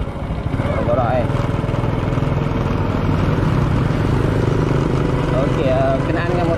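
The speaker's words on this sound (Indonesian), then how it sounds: "Okay, kenaan dengan motor RS abang aku." A running RS150 motorcycle engine, heard close up as a steady, loud drone throughout, with voices mixed in.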